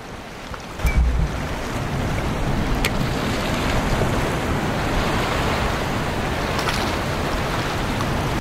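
Ocean waves surge and wash steadily with heavy wind buffeting the microphone, and a brief splash-like burst comes near the start as a bottle is thrown into the water.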